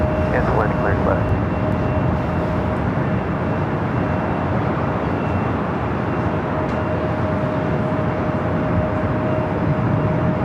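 A Qantas Airbus A380 on arrival at Los Angeles airport makes a steady, loud roar of jet engines that fills the scene throughout, with a faint whine near the start.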